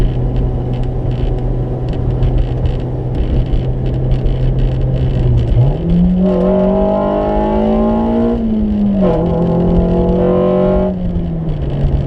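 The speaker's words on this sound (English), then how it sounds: "A nice VTEC kickover point." A 2000 Honda Civic SiR engine drones steadily, then revs higher and the tone sharpens into a harder, raspier wail as VTEC engages before easing off, loud and close.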